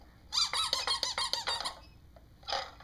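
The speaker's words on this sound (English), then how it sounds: "There's a squeaker in here." A squeaker inside a toy peekaboo block gives a rapid run of high, bright squeaks, about eight in a row, then a pause and one more squeak, loud and close.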